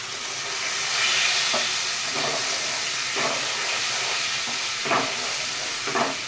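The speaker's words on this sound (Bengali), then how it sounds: "হিং দেওয়ার পর আমি এখানে দেব টমেটো পিউরিটা" Tomato puree hitting hot oil seasoned with asafoetida gives a loud, steady sizzle with hissing steam and occasional stirring scrapes, and no talk.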